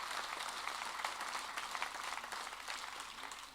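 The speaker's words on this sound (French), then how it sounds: "Oui, merci d'applaudir Yann." A campaign rally audience claps for a support committee president, a soft, fairly distant patter of many hands that swells slightly mid-way and tapers toward the end.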